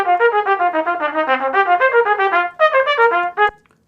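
Solo trumpet playing Bitsch Etude No. 18, a bright, close recording of a flowing run of quick articulated notes that breaks into a few accented phrases before ending abruptly.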